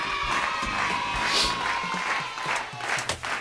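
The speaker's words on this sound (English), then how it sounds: "Can I get a cheer for that?" A live audience cheers and applauds, a dense mix of shouts, claps and whoops lasting a few seconds at steady volume.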